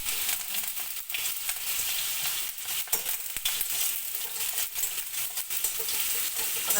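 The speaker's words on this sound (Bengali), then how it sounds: "এবার আমি শুকনো লঙ্কাগুলোকে ভেজে নিলাম।" Dried red chillies fry in hot oil in a pan after garlic, giving a continuous, dense crackling sizzle close up with occasional sharper pops and stirring.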